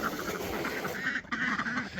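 Ducks in a barn quack repeatedly at feeding time, several close, nasal calls overlapping in quick succession and loud against the barn background.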